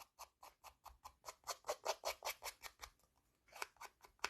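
Open blades of Stampin' Up scissors scraped repeatedly across paper, giving a quick, even series of close, crisp rasping strokes, a short pause, then a few more strokes.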